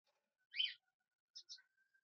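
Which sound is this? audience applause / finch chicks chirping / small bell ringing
finch chicks chirping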